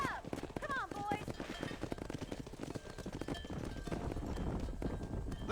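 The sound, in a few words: horses galloping while driving cattle, Red Dead Redemption video game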